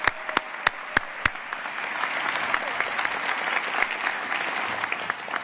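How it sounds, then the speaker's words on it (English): Applause for a high school choir at a political rally in Philadelphia: a few sharp nearby claps open, then a dense, steady wash of crowd clapping swells and holds at moderate level throughout. "one more round of applause for the Owatonna High School Choir"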